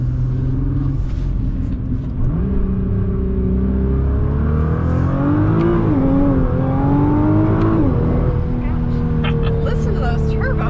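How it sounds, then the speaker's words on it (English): A 2021 Nissan GT-R accelerates hard with its turbos spooling, a loud steady engine drone rising and falling in pitch from inside the cabin, with people talking over it. "Listen to those turbos."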